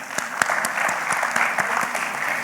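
An indoor audience at a conference session on water conservation and waste management claps steadily for a few seconds, a dense wash of applause with a few sharper individual claps.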